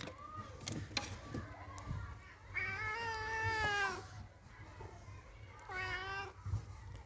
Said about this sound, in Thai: แมวหิวแล้วนะครับ